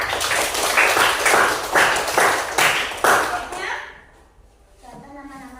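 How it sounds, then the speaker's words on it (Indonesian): A classroom of people claps together in a loud, steady burst of applause that fades out after a few seconds, followed by quieter sounds. "tepuk tangan untuk temannya."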